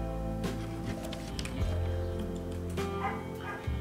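A shepherd dog at an animal shelter gives a few short barks and yips over a steady hum, fairly close and moderately loud.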